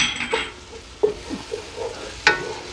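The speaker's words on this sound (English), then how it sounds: "We're gonna get ready to add our garlic in here." Minced garlic sizzles in a hot soup pot while a spoon stirs it, with a steady frying hiss broken by a few sharp scrapes and clinks of the utensil against the pot, close and moderately loud, no talking.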